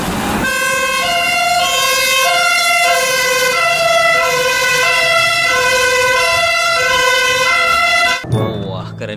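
A toy fire truck siren wails loud and close in a steady repeating two-tone pattern, cutting off abruptly near the end.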